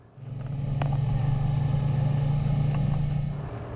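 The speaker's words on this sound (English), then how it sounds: "we have 2 200 horsepower outboard engines" Twin Suzuki 200 horsepower outboard engines powering a Zar 87 welldeck boat rise from idle into a strong steady drone, a low humming roar that builds quickly, holds, then eases slightly at the end.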